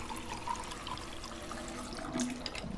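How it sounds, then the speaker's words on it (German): In the Life is Strange 2 video game, water runs from a tap into a bottle, a soft, steady splashing stream, faint and continuous throughout. "Flasche abfüllen."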